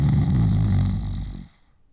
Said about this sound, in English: we can hear you snore